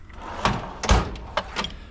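A tool box drawer, a junk drawer full of miscellaneous hardware, slides open with several rattling, knocking thuds, the loudest near the middle, all fairly close and with no voices.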